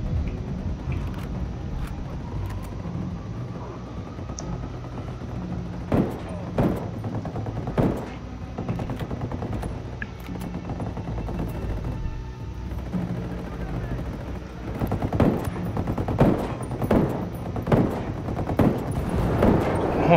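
Bursts of machine gun fire in the video game Ghost Recon Wildlands crackle in rapid volleys that grow denser toward the end, mixed with other game noise.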